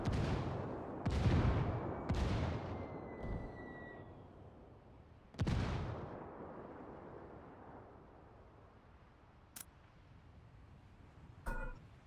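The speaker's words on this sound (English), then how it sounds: "Mortars coming out as well." Mortar fire in Ghost Recon Ghost War, PS4 competitive match: a series of deep booming blasts, several in quick succession at the start and another a few seconds later, each fading into a rumbling tail, with faint distant shots afterward.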